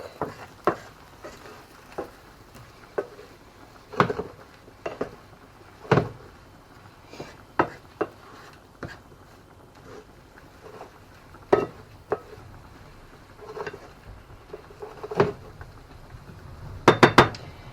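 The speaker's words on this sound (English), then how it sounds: "You're going to mix that all in. Get anything off the bottom of the pan that's got stuck." Chicken fajita pasta stirred and scraped in a pan, scattered sharp clinks and knocks of a utensil against the pan at irregular intervals, ending in a rapid cluster of taps, close with no talk.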